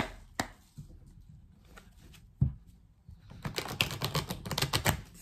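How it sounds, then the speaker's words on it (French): Tarot cards are shuffled and drawn for a six-card spread, a close, quiet ripple of cards with a few sharp taps, then a denser run of rapid riffling near the end. "Allez, tirage en 6 cartes avec la triade."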